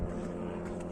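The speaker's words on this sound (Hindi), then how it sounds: "और ये हेलीकॉप्टर की आवाज़ भी सुनाई दे रही है।" A helicopter over a mountain village in Himachal produces a steady low engine and rotor drone, continuous and moderately faint at a distance, with no voices.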